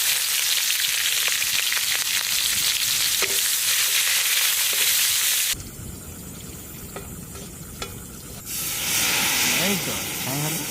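Whole cumin and dried red chilli hit hot mustard oil over a wood fire for a lentil dal tempering, giving a loud, dense sizzle that drops away midway and then surges back near the end.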